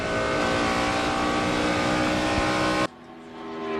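NASCAR race cars roar past at full racing speed, a loud, dense engine wail that holds steady and then cuts off sharply near the end, leaving a quieter rumble that slowly builds again.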